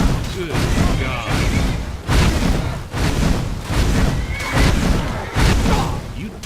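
Horse in Skyrim neighs and whinnies amid loud booming combat noise in a burned-out town, recurring in bursts over several seconds, with someone talking over it.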